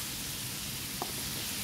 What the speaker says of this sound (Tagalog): Lagyan ko na rin ng bawang. Ayan, igisa lang natin siya.